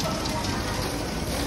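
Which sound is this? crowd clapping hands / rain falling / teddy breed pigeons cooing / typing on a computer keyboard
rain falling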